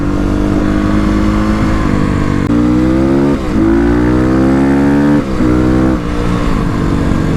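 A Kawasaki KLX351 dirt bike engine revs hard on the road, a loud, continuous drone rising in pitch through several gear changes with brief dips between shifts.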